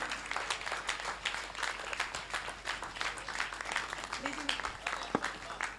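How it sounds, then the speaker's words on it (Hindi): An audience claps at the closing ceremony of a Jain study camp in Suryanagar, sustained dense applause with crisp individual claps, a voice faintly over it. "तालियां बजाइए कि सारी समाज को पता चले कि हमारे बीच में ऐसे रत्न भी हैं।"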